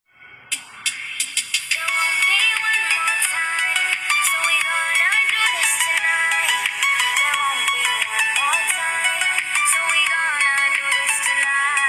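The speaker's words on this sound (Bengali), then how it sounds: "আসুন এবার তাহলে কিছু গান শুনে সাউন্ড পরীক্ষা করে নিই" Music playing from a Vivo U10 phone speaker, a bright, thin tune with a plucked-note start, then continuous melodic playback at moderate volume.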